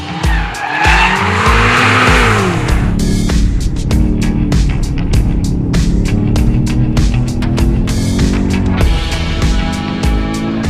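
A BMW M8 at speed on the L'Anneau du Rhin race track, its engine roaring steadily while tires squeal through corners, loud and continuous with no talk.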